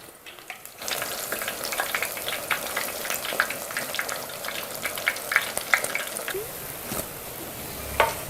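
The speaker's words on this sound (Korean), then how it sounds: "시금치는 한 번만 튀기시면 돼요" Steady crackling sizzle of spinach deep frying in hot oil, dense popping and spitting throughout, close and continuous with no talk.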